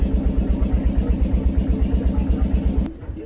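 A boat's engine chugs in a steady, rapid, thumping rhythm as the boat pulls away from the bank, loud and close, before the pulsing drops away abruptly near the end.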